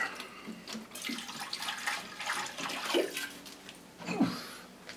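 Water from a can pours onto potted orchids on a shelf, a soft irregular splashing and trickling with a couple of louder gurgles, quiet and close.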